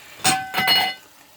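Two quick metallic clanks close together as a cat food dish is stepped on, knocked and rattling on a hard floor, then quiet.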